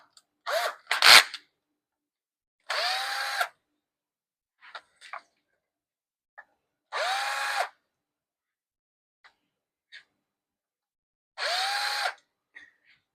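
Power drill unscrewing three Phillips screws from the fan housing of a Sunpumps pool pump, heard as three separate whirring bursts of about a second each, spaced apart, with faint handling clicks between them.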